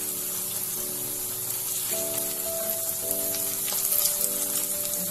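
Onion pakoda fritters frying in oil, a dense continuous sizzle and crackle close up, steady throughout with a faint tonal hum underneath.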